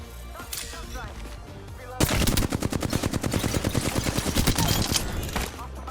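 Gunfire in a video game on PS5: a few scattered shots, then a sudden loud sustained burst of rapid automatic fire that runs for several seconds before fading, close and dense.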